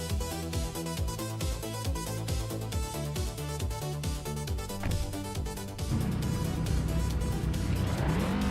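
Race cars at the Snetterton 300 race, including a 2011 KTM Crossbow R, roar close by with rapid rising and falling engine notes, then a sustained louder engine sweep near the end.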